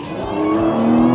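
A Lamborghini plug-in hybrid supercar with a 6.5-litre V12 revs loud and close, its engine note climbing steadily in one short burst.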